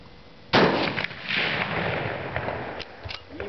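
A sharp gunshot cracks outdoors at a distant target, followed by a scattered rumbling echo and a few faint later pops.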